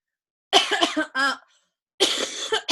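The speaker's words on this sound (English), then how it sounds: "I told you I was going to be coughing and everything." A woman coughs several times in two short bursts separated by a pause, close and fairly loud against a quiet background.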